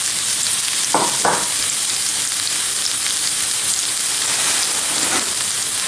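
Garlic and shallot sauté over medium heat in a pan, giving a steady, even sizzle like light rain throughout. A couple of brief utensil clicks come near the start, with no voices.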